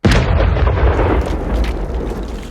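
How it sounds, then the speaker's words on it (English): A loud explosion bang goes off as a sound effect in a comic Irish folk song, a sharp burst that leads into a long rumbling, crackling tail. "He swallowed a spark and exploded with a bang."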